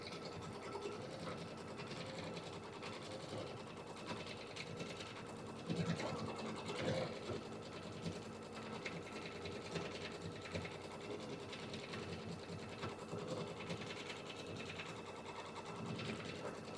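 An embroidery machine stitches a stipple quilting pattern in the hoop, a faint, steady mechanical whir with rapid ticking needle rhythm and a brief louder clatter midway, no speech.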